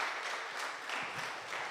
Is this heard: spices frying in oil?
no